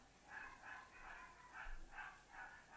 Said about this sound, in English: So it's dogs that are barking outside.